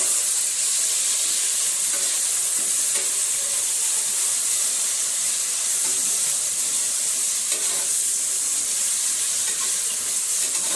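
Onions frying in a pan for chicken biryani until golden brown, a steady loud sizzle and hiss running throughout, with faint stirring scrapes underneath and no voices.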